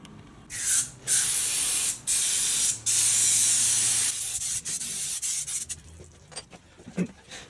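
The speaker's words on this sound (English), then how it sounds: "So now I'll also I'll spray the rest of the chain" Cleaner sprays onto a motorcycle chain in several sharp hissing bursts, close and loud, each a second or so long, followed by softer rubbing and scrubbing sounds.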